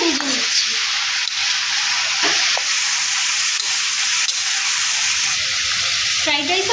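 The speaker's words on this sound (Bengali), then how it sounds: "ভালো করে সবজিগুলোকে ভেজে নিচ্ছি।" Vegetables fry in a pan for fried rice, giving a steady, fairly loud sizzle with occasional stirring scrapes running throughout.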